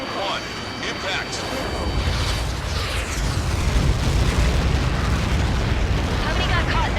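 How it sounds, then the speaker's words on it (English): Massive Helios projectile explosion in the Ace Combat 7 video game, a loud sustained blast rumble building over several seconds, with radio voices talking over it. "How many got caught in that explosion?"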